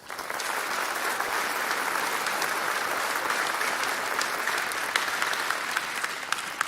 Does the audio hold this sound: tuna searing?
no